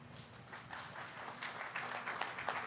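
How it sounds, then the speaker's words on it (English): Applause at the inauguration of the Samar Pacific Coastal Road Project, a steady patter of clapping from a gathered audience lasting throughout, moderately loud with a low hum underneath. "A big round of applause."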